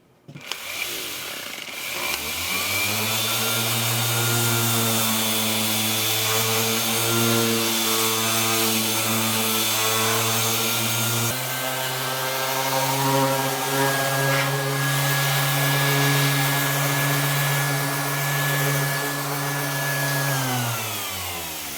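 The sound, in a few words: sanding a laminate finish to scuff it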